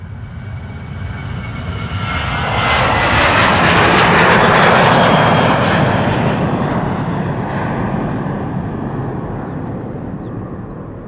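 A departing airliner at Amsterdam Schiphol Airport roars past, its jet noise swelling to a loud peak midway and then fading as it climbs away, heard alone without talk.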